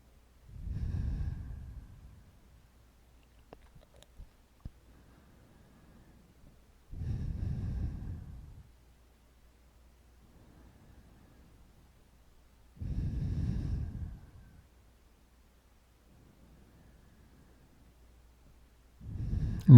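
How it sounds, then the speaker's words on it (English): Slow, deep breaths during a body scan meditation come in four evenly spaced cycles of strong exhale-like rushes, with fainter inhales between them and quiet pauses. "Breathing."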